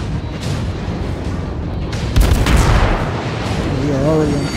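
Heavy naval gunfire booms in World of Warships, a loud burst of shellfire near the middle over a dense rumbling battle bed, with a voice speaking throughout.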